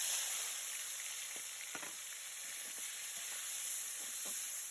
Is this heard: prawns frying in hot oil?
yes